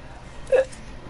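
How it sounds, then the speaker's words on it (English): A single short hiccup from a young man gaming online, a brief close voiced catch in the middle of quiet room noise. "Oh, I got hiccups."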